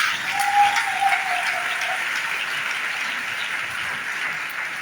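A church congregation applauds and acclaims Jesus at a Christian radio event, a steady, sustained wash of clapping with no voices over it.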